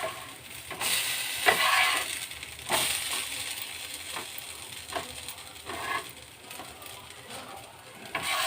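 Onion dosa cooking on a hot pan: a crackling sizzle of oil with scraping and turning strokes from a spatula that come at intervals, close and moderately loud, with a little speech in the background.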